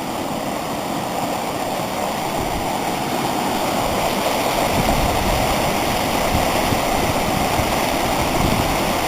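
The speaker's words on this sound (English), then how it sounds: "We can actually see the rapids." Steady, full roar of river rapids rushing over rocks at a portage on the Bird River, a dense continuous wash of water heard up close with no voices.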